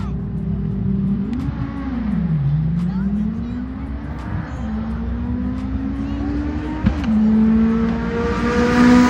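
A 180 hp VW Beetle on bigger-diameter rear tires revs hard on a drag strip, its engine pitch climbing and dropping through gear changes and then rising again, loud and close throughout.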